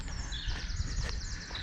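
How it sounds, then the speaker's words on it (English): Birds chirping outdoors in fresh morning air, a quick run of high, repeated tweets over a low background rumble, brief and moderately near. "birds chirping."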